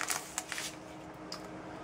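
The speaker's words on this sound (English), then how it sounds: "I'm just going to get my scissors. And just cut it open like that." Scissors snip open a Pokémon Primal Clash trading card pack with a few quick, crisp cuts close by, quiet and without talk.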